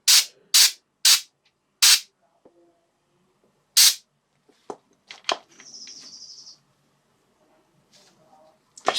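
An airbrush spraying paint onto a miniature figure in short bursts: several sharp hissing puffs, then a longer, quieter steady spray, with faint chirpy background noises between.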